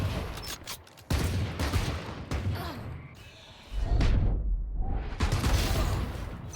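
Bursts of gunfire and dull impacts in a shooter video game, with loud chaotic stretches broken by a brief quieter lull midway.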